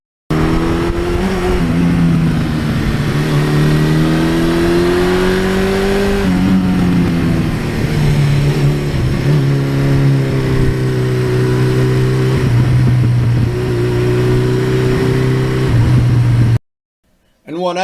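A 1982 Suzuki GS1100E motorcycle engine revving up and down repeatedly, loud and close, with rising and falling pitch, then cutting off abruptly near the end.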